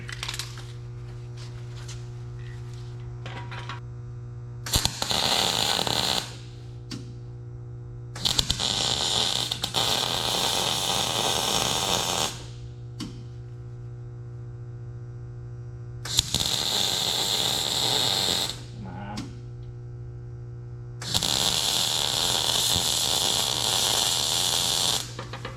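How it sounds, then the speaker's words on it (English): Welding on a 1966 CJ5 Jeep comes in four bursts of loud, crackling, hissing arc buzz, each lasting a few seconds, with a steady electrical hum and faint clicks in the pauses between them. "Let's weld this bad boy up."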